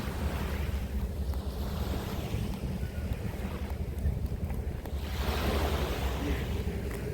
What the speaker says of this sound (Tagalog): Lakad-lakad lang tayo guys dito sa ano, sa tabi ng dagat.